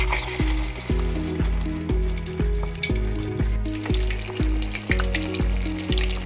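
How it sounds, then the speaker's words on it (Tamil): Oil sizzles and crackles steadily as fish pieces fry, with a rhythmic series of low thumps or knocks repeating about every half second throughout. "அடுத்தது நம்ம மீன் வந்து பொரிக்கலாங்க."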